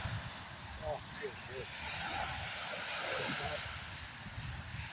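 Strong wind arriving ahead of a storm roars steadily outdoors, buffeting the microphone, while people talk over it.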